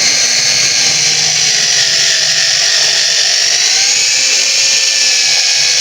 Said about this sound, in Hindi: ड्रिल मशीन में अटैच करके तो ये हम कंपाउंड कर लेंगे।